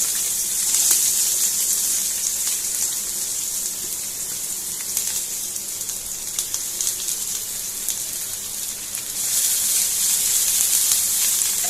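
A steady, bright sizzle of garlic, ginger and onion frying in hot oil runs throughout without a break, loud and close, with no talking.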